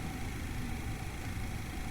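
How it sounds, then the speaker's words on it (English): Steady mid-range engine drone of a Boeing 737-300 in the IXEG flight simulator, a continuous even hum with broadband hiss and no talk. "Beautiful music, beautiful engine sounds."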